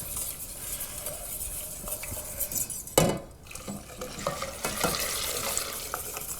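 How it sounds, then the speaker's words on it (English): Hot milk whisked into a thickening sauce in a pan, continuous brisk whisking and scraping with a loud splash-like burst midway as the milk goes in, metal clinks throughout, no speech. "now I just want to slowly add the hot milk. And you'll see the whole thing becomes a really nice, thick, light sauce"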